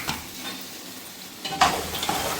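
Pulao is stirred in a cooking pot, with a soft sizzle under scattered scraping strokes that grow louder and busier toward the end, heard close with no talking.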